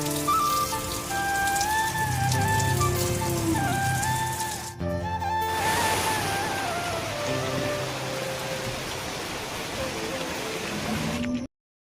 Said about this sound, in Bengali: দেখুন বৃষ্টির সঙ্গে ঝোড়ো হাওয়ার মতো হাওয়া